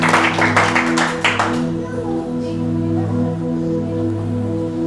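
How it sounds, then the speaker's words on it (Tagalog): A church congregation claps together in a burst of loud, dense applause lasting under two seconds, then fades into sustained organ-like music tones. "Sige nga po, palakpak pa po para sa ating Panginoon."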